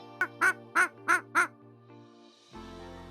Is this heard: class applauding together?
no